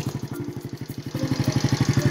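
A Shineray Jet 50cc motorcycle's small engine runs with a rapid, steady putter close by, its pulses quickening and growing louder as the throttle opens, with no talking.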